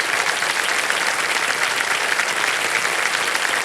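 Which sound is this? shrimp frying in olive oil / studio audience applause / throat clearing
studio audience applause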